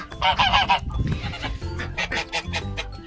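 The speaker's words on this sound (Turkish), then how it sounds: "bunlar mast kaz arkadaşlar" Mast geese honking repeatedly at close range, loud overlapping calls in bursts with a short pause around the middle, on a small poultry farm.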